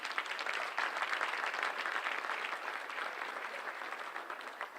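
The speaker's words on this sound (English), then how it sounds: "give yourself a round of applause" An indoor crowd claps steadily at a send-off celebration for the Lady Rangers team. The dense applause is fairly far off and holds an even level the whole time, with no single voice standing out.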